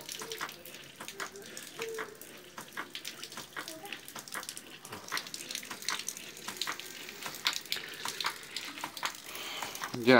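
River water pours and gurgles into the PVC intake pipe of a hydram pump, a steady, moderately loud flowing wash with scattered splashy bursts throughout.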